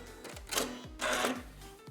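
A sewing machine stitching a quilt block in two short bursts of rapid mechanical whirring, close and fairly quiet, separated by brief pauses and soft clicks.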